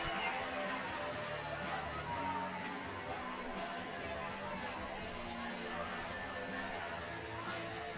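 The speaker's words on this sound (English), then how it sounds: "And this crowd has come to life" A baseball crowd at a home game in the bottom of the ninth keeps up a continuous, moderately loud murmur of chatter and cheering, with a broadcaster's voice heard over it.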